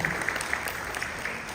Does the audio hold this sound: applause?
yes